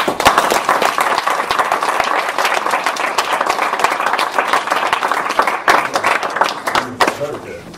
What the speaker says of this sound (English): Applause, I love applause.